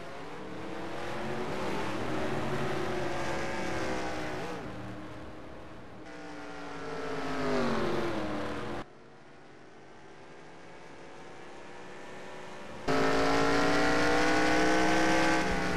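Stock race cars roaring on a restart at Bristol, engines droning and revving loudly as the pack passes in shifting waves, continuous and close with no voices.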